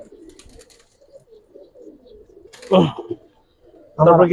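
Soft, low pigeon coos murmur throughout, with a couple of louder, closer bursts near the end.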